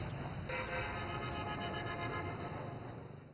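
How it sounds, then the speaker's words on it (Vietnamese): Car horns toot faintly through the steady rumble of heavy traffic on a busy Hanoi ring road crowded with large trucks, one clear honk standing out early before the din fades slightly. "Âm thanh xe chạy rầm rập, tiếng còi inh ỏi."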